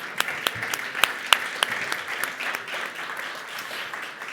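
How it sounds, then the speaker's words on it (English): Polite applause for the panelists at a plenary meeting, a moderate crowd clapping evenly for several seconds, with a few sharper claps standing out near the front. "So I'd like to give a round of applause to our panelists."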